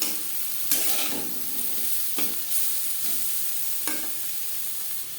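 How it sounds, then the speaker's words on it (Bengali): Bitter gourd sizzles steadily in tempered oil over a high-to-medium flame, with a few sharp stirring scrapes against the pan breaking through the constant close hiss. "ফোড়নের সাথে হাই টু মিডিয়াম ফ্লেমে 3-4 মিনিট উচ্ছে ভেজে নেওয়ার পর"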